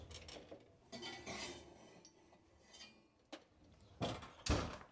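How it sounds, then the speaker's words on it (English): A hot 8-inch skillet of oil is pulled from a home oven, with metallic clanks and scrapes of pan and rack in scattered bursts, the loudest clatter near the end. "now let's go ahead and get the skillet out of the oven"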